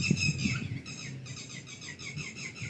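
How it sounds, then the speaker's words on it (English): Several birds chirp and tweet continuously in the background, high repeated calls at moderate distance, with faint low rustling underneath. "Sorry about this bird noise."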